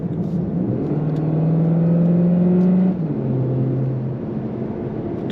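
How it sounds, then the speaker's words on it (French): A 245-horsepower Cupra Formentor hybrid in Cupra mode with Active Sound gives a sporty, humming engine tone that rises under acceleration, drops at a shift, then settles into a steady drone from inside the cabin. "en mode Cupra, on a un petit Active Sound"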